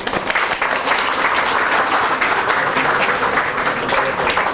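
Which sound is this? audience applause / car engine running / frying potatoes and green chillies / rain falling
audience applause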